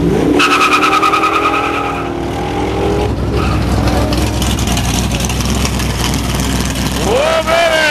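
A Hemi Challenger muscle car at a car show revs loudly close by, with a roaring engine note that rises and holds, then a tire squeal near the end, while spectators talk and shout over it.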